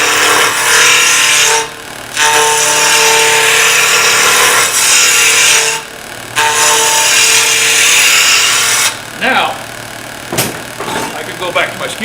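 Skew chisel cutting a spinning piece of wood on a lathe, a loud continuous rushing scrape in long passes broken by brief pauses, close and dominant, ending with a few lighter intermittent cuts.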